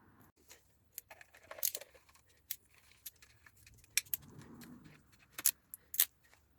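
Bolts going back into a Honda XR650L motorcycle, heard as a series of small sharp metallic clinks and taps scattered over several seconds, close and fairly quiet with no talking.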